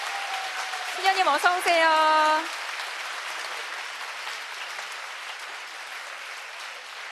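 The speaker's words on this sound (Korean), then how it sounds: "여러분 따뜻한 박수로 무대 위로 맞아주시기 바랍니다" Concert audience applauding Sister Lee Hae-in onto the stage at a celebration of her sixty years of religious life; a voice speaks briefly at first, then soft, steady applause continues to the end.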